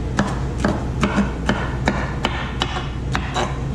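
A kitchen knife chops celery on a cutting board while preparing an elk dish: about ten crisp, evenly spaced chops close by, with no talking.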